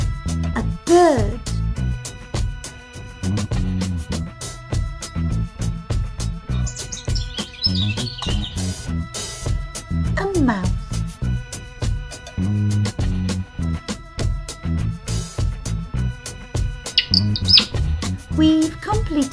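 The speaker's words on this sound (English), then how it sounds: "A bird." Toy bird chirps from a children's African wild animal jigsaw puzzle, short electronic tweets heard once or twice among steady background music and other toy sound effects.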